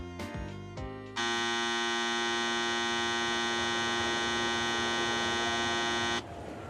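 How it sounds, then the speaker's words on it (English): A loud, steady electronic departure buzzer sounds for about five seconds as one continuous tone on a Shinkansen platform before a Nozomi train leaves, right after a few short beeps and above a low station rumble. "The buzzer has sounded. The train will depart soon."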